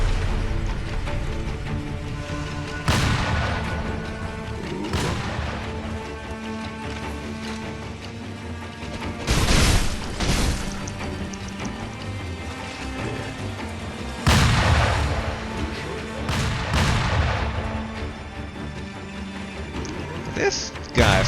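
A spear gun firing in Sekiro, with several sharp mechanical bangs and clanks spread across a busy stretch of combat noise, each loud and abrupt, under a low droning background.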